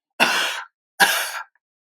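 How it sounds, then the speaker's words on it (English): Two loud, open-mouthed coughs from one person, each a harsh half-second burst with a short gap between, close and isolated against silence. "open mouth coughing in public"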